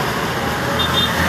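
Steady roar of road traffic on a busy avenue, vehicles passing close in a dense, continuous wash of engine and tyre noise.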